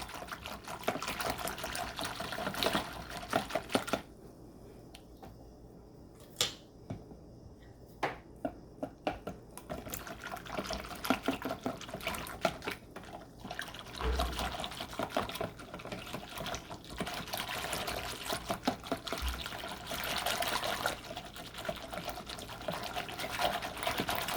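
Potato soup mixture is poured back into a crockpot, a wet, thick trickling and splashing that runs on and off for over twenty seconds with some clatter, close and moderate in level.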